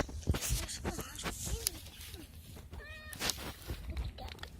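A large-bellied cat gives a few short, close meows amid scattered handling noises and a person talking.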